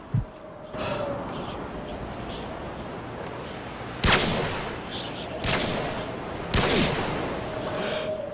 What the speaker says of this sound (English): Predator missile.